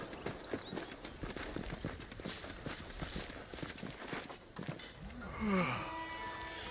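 Horse hooves clip-clop at a steady walking rhythm in the Red Dead Redemption video game on Xbox Series, moderately close, with a brief tonal cry rising over the hoofbeats near the end.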